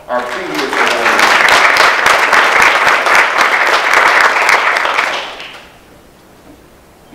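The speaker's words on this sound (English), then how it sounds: "let's give them a round of applause, our previous awardees" Loud, dense applause from an audience at a faculty awards ceremony honoring past awardees, sustained for about five seconds before fading quickly to quiet room tone.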